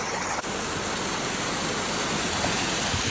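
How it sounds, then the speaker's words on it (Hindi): A small waterfall beside a rough mountain road in Arunachal, between Zemithang and Tawang, pours with a steady, dense, close rushing hiss that fills the whole moment without pause. "और एक वाटरफॉल, सुंदर सा वाटरफॉल,"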